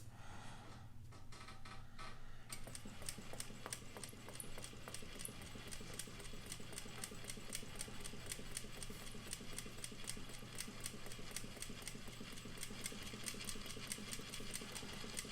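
A sewing machine stitches along lines on paper, starting with a few slow clicks and then settling into a fast, steady mechanical rhythm that stays fairly quiet throughout.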